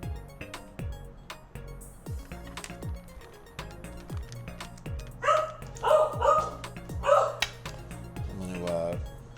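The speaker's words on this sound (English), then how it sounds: "I'm going to mute while my dog barks at the neighbor coming home." A dog barks at a neighbor coming home, sending out a cluster of several loud, nearby barks in the middle of the stretch amid clicks and other indoor sounds.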